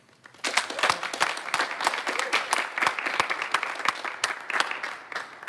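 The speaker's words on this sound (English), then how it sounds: "let's have a round of applause" A concert audience applauds at a jazz performance, a dense burst of clapping that starts abruptly and holds steady for several seconds, with scattered louder claps standing out near the listener.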